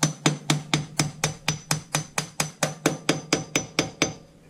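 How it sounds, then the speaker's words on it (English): A hammer taps a bicycle axle into its hub in sixteen sharp, evenly spaced metallic strikes, close and loud, each ringing briefly before the next, with no talking. "Tap till it sounds hard."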